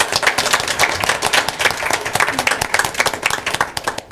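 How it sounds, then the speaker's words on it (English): A round of hand clapping from attendees at a school district board meeting, irregular individual claps close and clear, steady for several seconds with no talk over it. "if you wouldn't mind joining me in a round of applause for Kevin"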